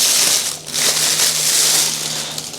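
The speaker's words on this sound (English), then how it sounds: "Let's unbox this and I'll show you how it works." A SparMax airbrush spray-out pot being unboxed, with loud close crinkling and crunching of packaging in continuous bursts and no speech.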